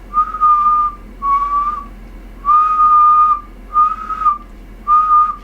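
A person whistles a series of five steady, pure tones into an analog pumpkin lamp, each held about half a second to a second with short gaps, clear and close with a low hum beneath.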